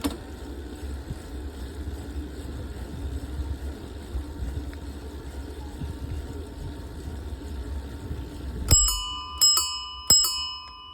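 Three quick, bright chimes from a Dutch ding-dong bell mounted on a bicycle ring out close by near the end, after a stretch of low rolling and wind rumble on a rural loop road.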